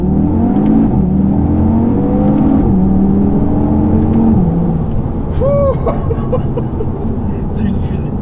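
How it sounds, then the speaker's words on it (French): An Audi TT RS engine revs and climbs through rising pitch sweeps as the car accelerates hard from a standstill to 80 km/h, loud and close, followed by brief voices and laughter near the end. "On va se faire un 0 à 80 très dynamique."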